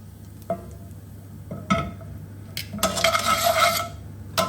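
Garlic in olive oil in a pan for tinned salmon pasta, a few sharp clinks and a short scraping stir, then a brief bright crackling sizzle, close and otherwise quiet.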